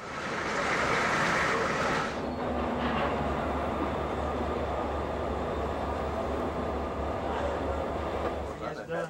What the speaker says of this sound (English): A single GP9 switcher is shoving a cut of cars through the yard.